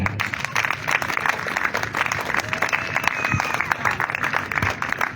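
Congregation applauding and cheering during a French-language church prayer service, dense continuous clapping mixed with crowd voices and cheers, loud and sustained throughout.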